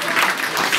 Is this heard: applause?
yes